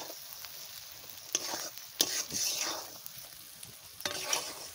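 Eggs are sautéed and stirred in a spiced masala in a pan for egg biryani. Soft sizzling runs underneath while several sharp scraping strokes of the spoon stand out, close and moderately loud.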